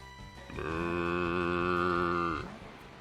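Miltank's cry from Pokemon LeafGreen: a single loud, sustained synthesized moo lasting about two seconds, rising in and falling off cleanly, heard alone without talk.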